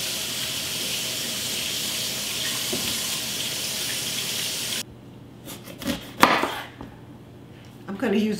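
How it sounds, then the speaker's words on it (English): A yellow pepper and other vegetables are cut on a kitchen board, with running tap water at first, then a few sharp, irregular knife chops close by. "I'll play sous chef and start getting these veggies cut up. There's my yellow pepper."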